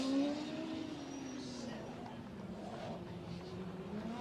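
A Formula Student race car on an endurance track, its engine droning and shifting pitch as it runs at a distance, faint under commentary voices.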